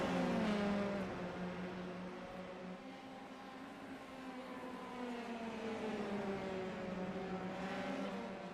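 A Formula 3 race car at Zandvoort holds a high engine whine, starting loud, dipping, then climbing again through rising gear tones as it drives on without a break.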